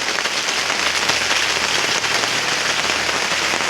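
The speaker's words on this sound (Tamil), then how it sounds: "அது மாதிரி மழை நல்ல சாரில் பெஞ்சிருக்கு." Steady rain falling hard onto open ground: a dense, even hiss that stays constant throughout, with no voices.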